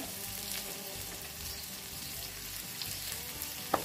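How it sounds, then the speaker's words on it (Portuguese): Calabresa sausage browns in oil in a pan, giving a steady, even sizzle with light crackle throughout and one sharp tap near the end; no one speaks. "eu vou deixar dourar a primeira calabresa aqui"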